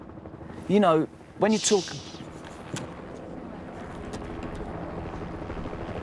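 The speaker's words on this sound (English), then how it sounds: "We got a Black Ops helicopter in the background" A low, steady rotor drone of a helicopter hangs in the background while people talk briefly in the foreground.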